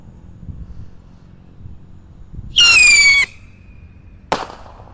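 A pyrotechnic rocket firework ignites and launches with a loud, shrill whistling screech lasting under a second, trailing off into a thin fading whine, then a sharp crack follows; low outdoor rumble underneath.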